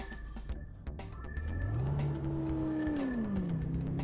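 A Nissan GT-R's engine in the City Car Driving video game on a highway, revving up through the gears with rising and falling pitch, fairly loud and steady with no talking.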